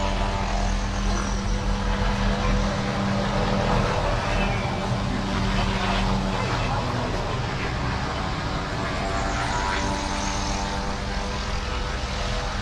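A police helicopter lifts off and climbs into the sky, its engine and rotor making a loud, steady drone that runs throughout.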